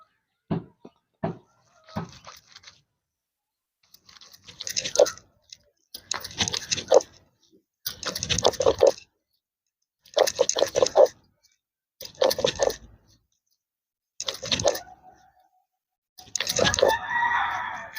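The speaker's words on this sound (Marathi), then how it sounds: "आता पाणी थोडं टाकून वाटायचं आहे" Coriander and garlic being ground into a paste with a little water, village style, heard as a series of about eight rhythmic, close scraping and squishing strokes separated by short pauses.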